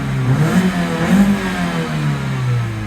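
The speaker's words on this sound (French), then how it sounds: "la voiture ne chauffe pas, tourne très bien" A car engine idles and revs in mid-range pulses, close and loud, running smoothly without overheating despite a worn accessory belt; no talk over it.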